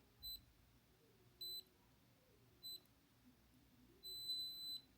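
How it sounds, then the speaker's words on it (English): Three short electronic beeps spaced about a second apart, followed by a longer beep, from a MyPin fingerprint lock registering a thumb, all high-pitched and fairly quiet, with no voices. "Okay, long beep."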